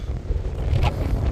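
Wind buffets the microphone on a cold, blustery day outdoors near Fontana, North Carolina, a steady low rumble with gusty swells through the whole moment and no talking.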